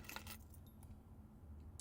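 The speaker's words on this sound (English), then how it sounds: "we got a spare set of car keys." Spare set of car keys jangling as they are picked up in the video game Blue Prince, a short metallic rattle at the start that fades quickly over a low steady background hum.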